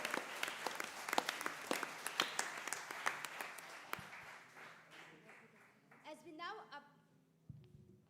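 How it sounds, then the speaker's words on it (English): An audience at the grand finale of a constitution quiz claps for Bertie, sharp dense applause that fades after about five seconds, followed by a voice speaking over the room. "Give a big round of applause for Bertie."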